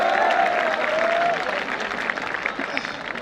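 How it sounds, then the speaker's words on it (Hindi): Dense applause from a large audience at a Hindi poetry gathering in Meerut greets a poet coming to the stage. The clapping is loud and sustained, with a faint voice briefly audible over it, then fades slightly toward the end. "आप लोग भरपूर तालियों से बुलाएं"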